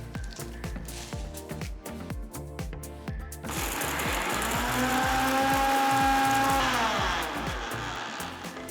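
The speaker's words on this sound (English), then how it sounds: "transfer it to the mixer jar and grind them all to a nice fine powder" A kitchen mixer grinder grinding cooled roasted curry leaves and spices to a fine masala powder, with loud, steady motor roaring and whining over rattling pulses from the jar, rising after a few seconds and then easing slightly.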